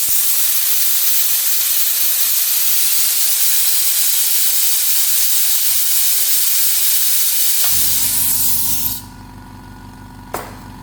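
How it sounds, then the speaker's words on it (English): A tiny budget mini air compressor runs steadily for spray painting in a workshop, a loud broadband hiss holding for about eight seconds before dropping to a quieter low hum with a brief click near the end. "I think that is an absolutely fantastic little compressor."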